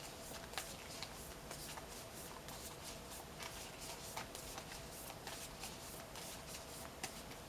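Tarot cards are shuffled quietly and continuously up close, a soft papery riffle with irregular flicks and slaps repeating throughout.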